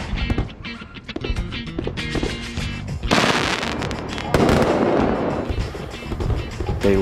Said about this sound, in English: They've decided to put on a fireworks display just outside our window that continues well into the night.